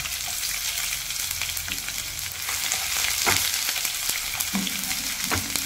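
Shallots fry in oil with fenugreek and mustard seeds, a close, constant sizzle with crackles and a few stirring scrapes and clinks, and no voices.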